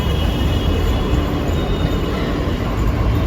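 A Delhi metro train at the station, a loud, steady rumble of rolling carriages with faint high squealing from the wheels, no talk.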